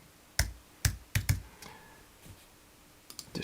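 Keys tapped on a computer keyboard in a few scattered, crisp strokes: a quick cluster of clicks, a pause, then a couple more taps at the end, close and fairly quiet with no talking.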